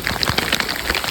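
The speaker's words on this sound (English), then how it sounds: "It's raining." Rain falls outdoors during a hunt in Wyoming, a dense steady patter of drops spread evenly over the whole moment, close and fairly loud, with no voices.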